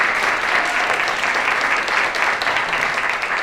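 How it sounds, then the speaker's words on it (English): An event audience applauds a speaker, a New York Times editorial page editor and author: steady, full crowd clapping at moderate loudness, continuous throughout with no voices over it. "Can we have a round of applause, please?"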